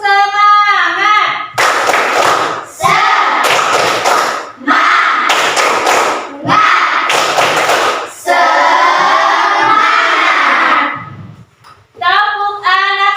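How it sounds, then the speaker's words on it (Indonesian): Fourth-grade children in a classroom clap in rhythmic bursts while chanting loudly together in unison. The clapping and chanting are close and lively, with a short pause before a final chanted phrase. "Tepuk semangat"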